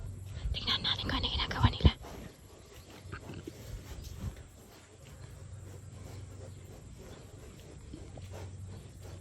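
Pigs grunt and snuffle nearby in short bursts, with a louder scuffle early on and quieter breathy panting afterward.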